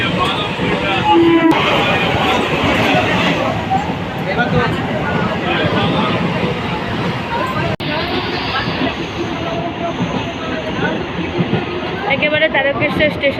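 A train rolls into Tarakeswar station during heavy rain, a loud, close rumble with clattering wheels and metallic rattles, alongside crowd babble and talking.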